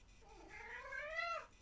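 One drawn-out cat meow, close and fairly quiet, rising and then falling in pitch over about a second against a low background hum.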